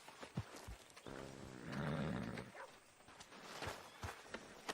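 A horse in the Red Dead Redemption 2 video game whinnies and snorts in a drawn-out burst, mid-distance, among hoof thuds and game ambience.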